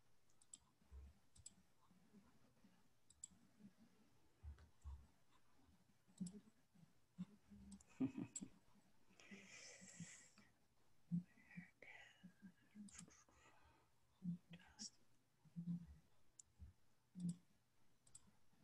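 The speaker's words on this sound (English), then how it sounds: "There's a lot of clicking around here." Scattered sharp clicks recur through a quiet room at irregular intervals, close and faint, mixed with soft whispering and murmured voices.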